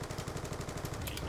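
MSMC submachine gun fired in Black Ops 2, a short rapid stream of evenly spaced shots, fairly quiet and steady throughout.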